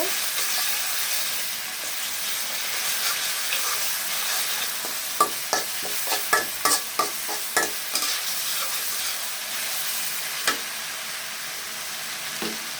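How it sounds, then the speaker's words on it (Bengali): Garlic paste frying with cooking leaves in a pan, continuous hissing sizzle under brisk stirring, with a run of sharp spatula clacks against the pot in the middle, close and without speech. "রসুনটা এই পাতালের সাথে"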